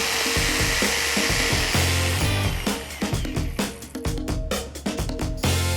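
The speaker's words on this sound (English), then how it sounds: "I need somewhere to start the jigsaw" A jigsaw with a small blade cuts a starfish shape out of Azek board: a loud, close buzzing drone that breaks into rapid rough chopping strokes as the cut turns through tight corners.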